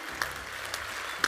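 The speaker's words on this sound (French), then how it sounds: "on peut les applaudir, oui." Applause from the audience at a business awards ceremony in Creuse, France, sounds as a soft, fairly distant patter of many hands, with a few sharper claps standing out across its short length.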